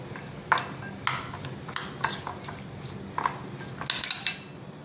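Paneer pulao ingredients with spices and salt being mixed in a pot, a series of sharp clinks and scrapes of a metal spoon against the vessel at uneven intervals, close and clear, nobody speaking.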